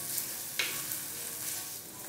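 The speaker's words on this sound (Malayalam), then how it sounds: "നമ്മുടെ ഈ ചെറിയ ഉള്ളിയും ചേർത്ത് കൊടുത്തിട്ട് വീണ്ടും നല്ലതുപോലെ എല്ലാം കൂടി ഒന്ന് വഴറ്റി കൊടുക്കുകയാണ്." Shallots sauté in hot oil for a Kerala-style sardine curry, giving a steady close sizzle with a brief scrape of stirring partway through.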